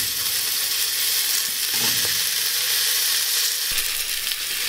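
Chopped carrots and potatoes tumble into onions frying in a pan, setting off a steady loud sizzle with brief scraping stir sounds mixed in.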